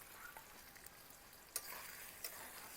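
Chopped onion frying in oil in a pan for chicken curry, a soft steady sizzle with faint stirring scrapes and two brief louder clicks, no voices.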